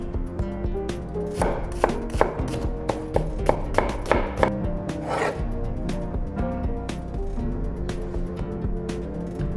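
Onion being chopped on a cutting board for a Mediterranean tuna salad, a close, steady series of knife strikes in a quick regular rhythm, with faint background music and no speech.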